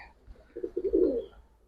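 A single Giribaz or colouring pigeon coos once, a short low throaty phrase of a few pulses rising into a fuller roll, close and alone.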